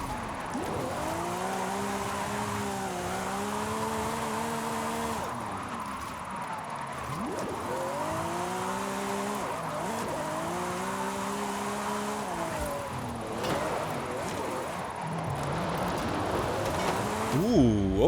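A Lamborghini on drift tires in the racing game Forza Horizon 5 drifts with its engine revving up and down in repeated swells, plus a little tire noise, at a steady moderate level with no break.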